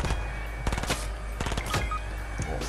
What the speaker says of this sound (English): I just shot the roof